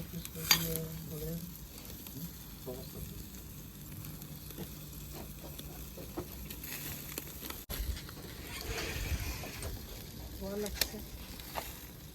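Meat sizzles on an outdoor barbecue grill at a family summer cookout, a faint, steady frying hiss with occasional clatter while people talk nearby.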